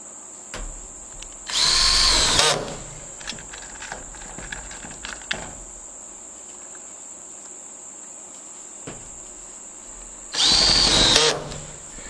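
A power drill whirs in two short bursts several seconds apart, driving screws into metal roofing on a chicken coop shed, while crickets chirp steadily in the background.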